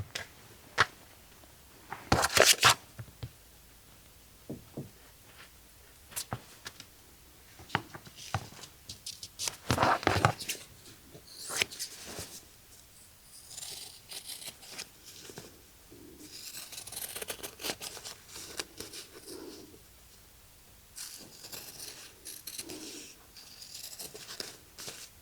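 Scissors snip and trim fabric pieces for a layered sea turtle applique on a sweatshirt, giving scattered short crisp cuts and rustling fabric handling, close and fairly quiet, with no talking.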